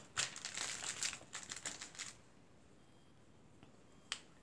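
Taped paper being folded over by hand while making a shaker card, giving a quick run of close crinkling, creasing rustles for about two seconds, then near silence broken by one small sharp tap.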